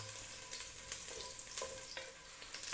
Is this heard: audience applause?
no